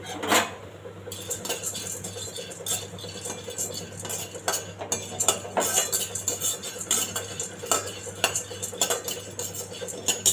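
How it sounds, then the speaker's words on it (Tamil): Split roasted chickpeas (pottukadalai) are dry-roasted in a pan while a utensil stirs them, producing repeated close clinks and scrapes of metal against the pan in an irregular rhythm. "அதையும் லேசாக வறுத்துக்கணும்"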